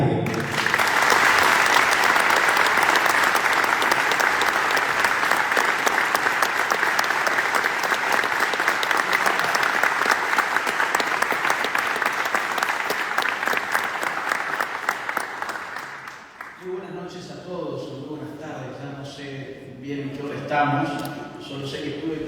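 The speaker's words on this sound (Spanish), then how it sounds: "Recibimos con un fuerte aplauso en el día de hoy" A loud, dense round of applause welcomes a speaker in the Argentine National Congress, sustained for about fifteen seconds before fading as a voice begins speaking.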